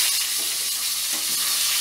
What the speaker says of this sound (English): we are finished frying fish